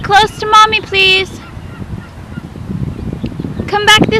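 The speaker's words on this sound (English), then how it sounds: "there's seagulls everywhere over here" Gulls in a city park give several loud, harsh honking calls near the start and again at the end, with a busy open-air murmur and faint background noise in between.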